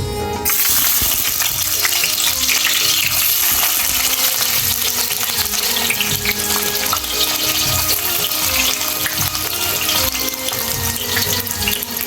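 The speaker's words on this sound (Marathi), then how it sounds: "आपलं तेल गरम झाले आपण कांदा घालूया" Sliced onion dropped into hot oil gives a loud, steady, dense sizzle that runs unbroken throughout, close and crackling.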